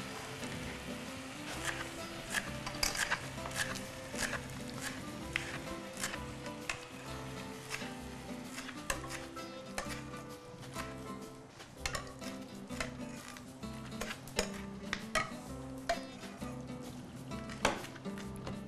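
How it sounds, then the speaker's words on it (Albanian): Onion tipped into a pot of winter chicken soup, with busy clattering and knocking of pot and utensils in a steady, close run of sharp clicks and thuds over a dense background. "Qepën, sigurisht do t'a edhim tani."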